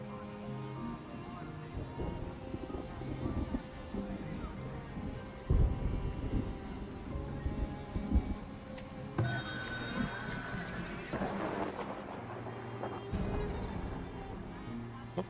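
A thunderstorm in the colony-building game Farthest Frontier, with steady rain hissing over everything and low thunder rumbling in swells, plus sharper cracks partway through.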